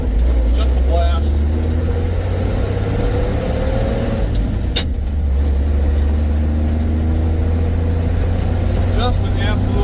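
A 1952 Chevrolet 2-ton truck's engine drones low and steady while driving, a continuous loud rumble throughout with cab noise, and a voice speaks briefly over it.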